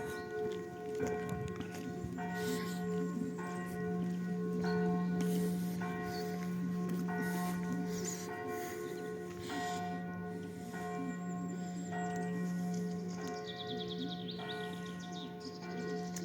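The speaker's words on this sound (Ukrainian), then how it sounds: "Чути дзвони в церкві." Church bells ring steadily in Truskavets, Ukraine, in spring, their sustained tones hanging over a busy outdoor ambience with birds chirping in the background.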